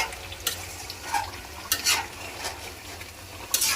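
Whole spices for tempering fry in hot oil in a pan at a home lunch cookout, a close crackling sizzle with several sharp spatters and bursts, plus light clinks of a utensil, no talk.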